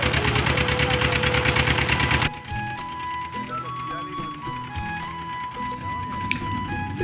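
A motor launch pulls away on a river crossing toward Katamari in the Sundarbans, its engine throbbing steadily and loudly at first, then settling into a lower, quieter drone with a faint tick beneath it.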